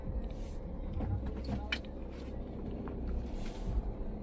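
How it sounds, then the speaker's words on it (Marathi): A car rolls slowly into a parking area beside the Kalubai temple at Mandhardevi during the Paush Purnima fair, a low steady engine rumble and tyre noise with faint activity around it. "गाडी लावतोय पार्किंगला."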